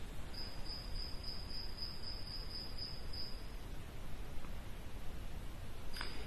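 A single cricket trills steadily and faintly for a few seconds, then falls silent, leaving soft background hiss and a brief click near the end.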